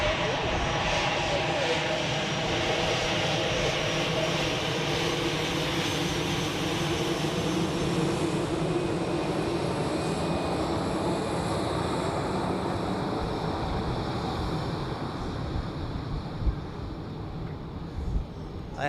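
An Air Bulgaria Embraer jet at Zurich Airport, its engines giving a steady, loud broadband roar that holds for the full stretch and eases slightly near the end, with faint talk underneath.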